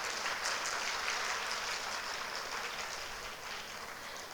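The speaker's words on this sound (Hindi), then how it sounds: "तो हम एक बार उन सभी का अभिनंदन करते हैं अच्छे से तालियां बजा के." Sustained applause from an audience at a women's gathering, clapping for the organising team, an even, hissing wash of many hands held at steady volume.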